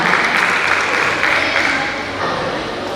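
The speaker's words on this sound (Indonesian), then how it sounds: "Silakan boleh tepuk tangan untuk Amang Nezar Huta Barat." An audience at a Batak clan association's board inauguration applauds a speaker being welcomed up, dense continuous clapping that fills the room, fairly loud and close, fading slightly toward the end.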